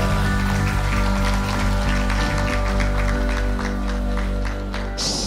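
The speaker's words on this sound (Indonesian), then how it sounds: "Tepuk tangan buat Tuhan." A church congregation applauds together during a worship service, a dense, steady wash of clapping that fills the room from start to finish beneath a sustained musical drone.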